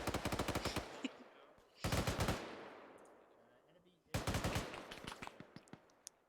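Bursts of automatic gunfire in the video game Arma 3, three rapid volleys of sharp repeated shots separated by short gaps, loud and close, with faint voice in the background.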